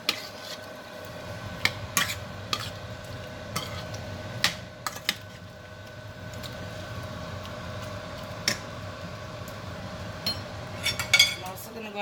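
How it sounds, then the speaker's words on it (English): Steak, shrimp and peppers being stirred in sauce in a pot, with scattered clinks and scrapes of a utensil against the pot over a low kitchen background hum. "Going to mix all that together so everything gets cooked into that sauce"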